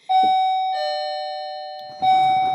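A doorbell chimes a clear two-tone ding-dong, the first note ringing out and then a second strike near the end, alone in a quiet room.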